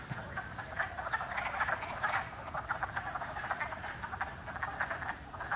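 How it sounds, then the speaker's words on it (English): A dense chorus of spring peeper frogs calls from a swampy pond area in northern New York, with many overlapping high-pitched peeps running steadily throughout and no voices. "Listen to all those peepers."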